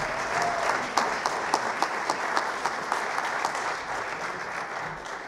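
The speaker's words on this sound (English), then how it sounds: "Let's give a round of applause to those who share this morning." Church congregation applauding after a morning sharing during a communion service: a steady wash of clapping that lasts several seconds, with a few sharper individual claps standing out before it slowly fades.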